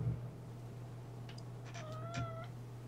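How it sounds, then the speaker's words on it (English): A cat meows once in a drawn-out, wavering cry with a falling pitch, fairly faint over a steady low electrical hum, with no voices. "my cat is crying"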